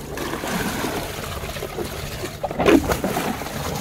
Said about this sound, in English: we are seeing this overflow because the tank is full and it doesn't have an automatic switch off system